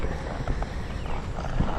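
During a riding lesson, a horse's hooves clip-clop steadily in a quick rhythm of muffled thuds on soft ground, close by and fairly loud, with no voices.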